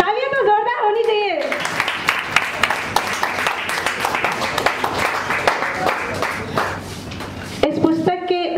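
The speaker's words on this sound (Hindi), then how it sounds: "तालियां तो जोरदार होनी चाहिए।" Loud, dense applause from a book-launch audience welcoming a music director to the stage, sustained clapping for several seconds, with an announcer's voice just before and after.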